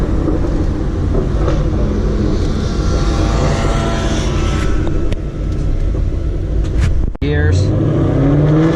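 A car fitted with a very loud aftermarket exhaust accelerates hard, its rumbling drone continuous and close through the run, with a brief dip around a gear change.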